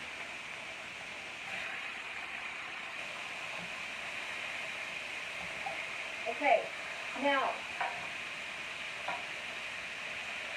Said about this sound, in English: Oh, that pan is really hot. It's sizzling and it's not even on there.